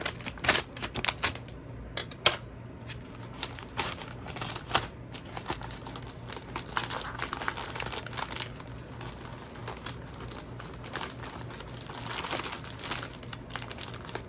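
A taped parcel is unwrapped up close, with continuous crinkling, crumpling and ripping of wrapping and tape, plus sharp sporadic snaps and tears throughout and no speech.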